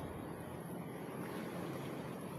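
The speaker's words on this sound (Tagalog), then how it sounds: "Kalmang-kalmada yung dagat pero malakas yung hangin." Strong wind buffets the microphone beside a calm sea on a Philippine shoreline, a steady close roar with little variation and no voices.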